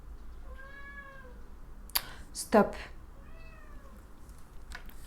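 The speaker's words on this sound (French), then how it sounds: "Je suis vraiment désolée pour le chat là" A cat meows twice, with a few seconds between the calls, while a person speaks briefly and there are a couple of soft knocks.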